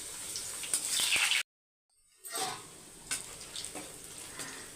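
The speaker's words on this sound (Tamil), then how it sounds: "அப்பளத்தை வறுத்து எடுத்துடலாம்." Appalam (papad) frying in hot oil in a home kitchen: a loud, bright crackling sizzle, a brief cut to silence, then the sizzle returns with light scraping and stirring, no voices.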